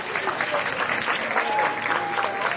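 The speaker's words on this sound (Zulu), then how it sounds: "Hey, ake ngishayile ihlombe naze nabahle." Hands clapping in applause, a steady run of close, brisk claps that keeps going throughout, with a few faint voices behind.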